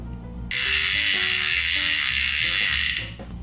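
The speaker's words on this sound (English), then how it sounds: "Nice loud clicker." A Hercules 60C lever drag fishing reel lets out a loud, rapid buzzing clicker for about three seconds as the line spins out, close up and steady before cutting off.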